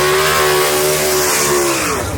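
A gasser-style drag race car with a Dwayne Bush race engine accelerates at the dragstrip, a loud, steady, close engine roar with strong harmonic tones sustained throughout and no talk.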